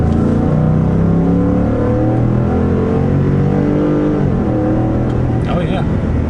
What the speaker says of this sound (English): So let me give it some gas again.